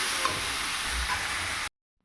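Water poured into white eggplant curry frying in a pan brings a soft, steady sizzle and hiss for under two seconds before it stops abruptly into silence.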